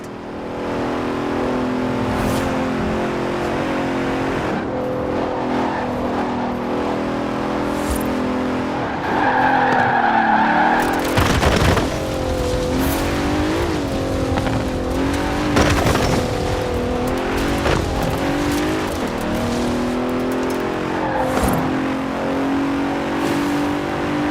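Race cars speed along in Forza Horizon 4, engines revving loudly and steadily with repeated sharp tire squeals and skids during hard cornering, under a continuous roar.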